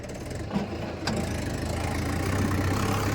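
A vehicle engine running steadily in a red-soil field, a close, continuous low rumble with slight knocking texture, fairly loud and without speech.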